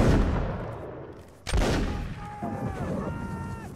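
A massed infantry line fires a volley in a line battle video game: one sharp, loud crash of many muskets at once, then a ringing tail under continuing battlefield noise.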